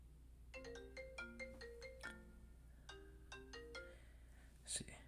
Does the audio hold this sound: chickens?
no